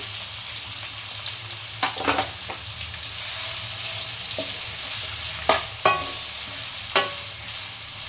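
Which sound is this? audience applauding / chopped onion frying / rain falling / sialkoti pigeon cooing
chopped onion frying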